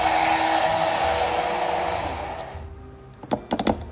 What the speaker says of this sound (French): je mets mon Bamix et je mixe